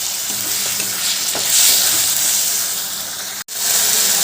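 A spice paste fries and is worked with a spoon in a pan for a vegetarian drumstick-flower dish, a steady close sizzle with scraping stirs, cut by a brief gap near the end.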